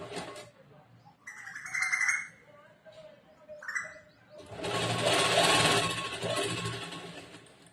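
Sewing machine stitching the sleeves of a plain blouse in short bursts separated by pauses, close and moderately loud, with a longer sustained run near the end.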